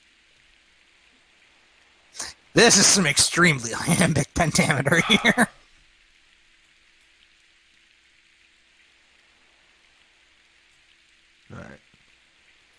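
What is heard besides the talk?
rain in Fire Emblem: Path of Radiance video game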